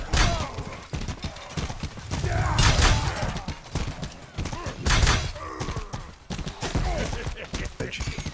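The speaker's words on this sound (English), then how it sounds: "a fast incoming horse" A horse gallops in the medieval combat game Mordhau, hooves drumming in uneven bursts amid clashes and battle noise, with a voice talking over parts of it.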